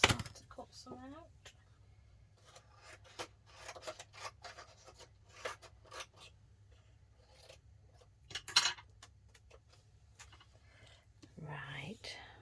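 Scissors snip through paper in a few quiet, intermittent cuts, mixed with soft rustling and rubbing close to the microphone, while a person whispers and murmurs throughout.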